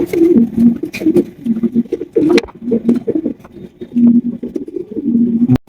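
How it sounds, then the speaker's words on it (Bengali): A pair of jet-black fieldback pigeons coo nearby in a loft, with repeated low throaty calls in an uneven rhythm, soft wingy rustles and a few brief knocks between them. "এখানে রয়েছে একজোড়া কালো কুচকুচা একজোড়া ফিল্ডব্যাক কবুতর"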